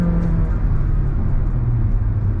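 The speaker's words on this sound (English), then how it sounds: "you can hear the engine going whoa, whoa, like how it would in a normal ICE powertrain" A Honda City e:HEV hybrid sedan's artificially generated engine note drones steadily from inside the cabin, a loud, even low hum with faint rising pitch, no talking.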